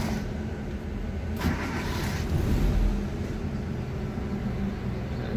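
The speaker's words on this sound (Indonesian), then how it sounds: "Kita kali ini akan menghidupkan mesin posisi pintu terbuka teman-teman." A 2006 Katana GX engine is started with the car door open: a brief cranking catch, then a loud, steady idle that rises slightly before settling into an even, smooth hum.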